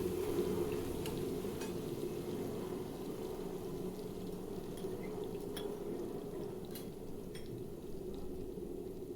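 Green chilli and garlic fry in oil with a soft, steady sizzle and low bubbling hiss, faint and even throughout, with occasional small ticks and no voices.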